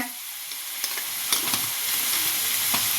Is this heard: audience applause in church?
no